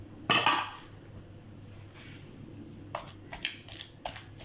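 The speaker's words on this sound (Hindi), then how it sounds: "मैं इसको गरम गरम ही दोरी में कूट लूँगी" Hot chicken and lentil kabab mixture pounded in a stone mortar: one heavy thud, then a run of lighter rapid knocks, close-up with no talking.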